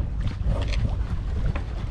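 A sailboat under sail, with reefed main and single-line reefing gear, moves through water with a steady low rush of wind and water, interspersed with soft splashing and light flapping sounds close by.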